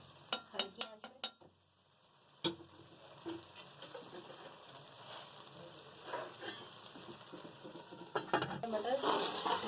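Qeema matar simmers in a pan with added water, soft sizzling and bubbling under several sharp clinks of a spoon against the pan at the start and scattered stirring scrapes later.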